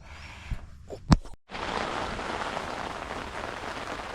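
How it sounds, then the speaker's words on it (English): Heavy rain pours steadily onto a tent during mountain camping, a dense continuous hiss that begins after a few brief knocks and rustles and then holds loud and unbroken to the end. "I wake up to torrential downpour"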